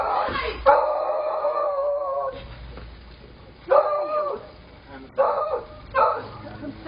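A dog barks and yelps in short, loud bursts with whining between them, close by, with people talking over parts of it.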